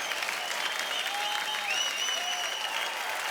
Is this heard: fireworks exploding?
no